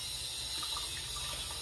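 Water splashes and runs steadily as it is poured for pounding arrowroot into powder with an old wooden pestle, a short continuous flow with no voices.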